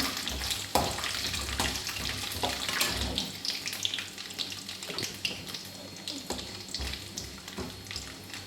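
Coconut frying in a pan, a steady near sizzle with wet crackling and occasional clinks of stirring throughout, no voices.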